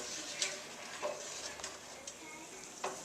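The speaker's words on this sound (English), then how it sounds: "Give it a good stir and bring it up to the boil." A spoon stirs a pot of apple, sugar, lemon juice and cinnamon, a soft continuous hiss broken by a few scraping strokes against the pot.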